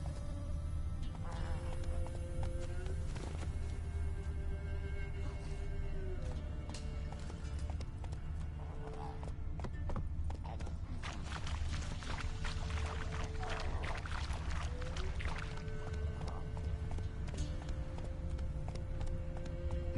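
Roach, a horse in Witcher 3, gallops with a steady run of rhythmic hoofbeats beneath a constant low rumble of game ambience, with occasional snorts and tonal game sounds layered over it.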